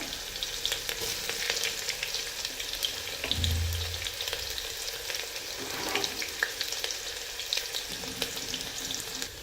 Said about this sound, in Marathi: त्यानंतर थोडासा कांदा टाकून घ्यायचा आहे बारीक चिरून एकदम